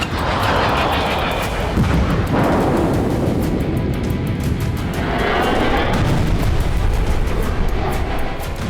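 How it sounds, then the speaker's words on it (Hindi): Explosions in Russia-Ukraine war news footage rumble as a continuous, loud, booming roar with heavy low-end rolling through the whole stretch and no speech over it. "यूक्रेन में होते इन धमाकों का बदला लेने के लिए ज़ेलेंस्की बेचैन है"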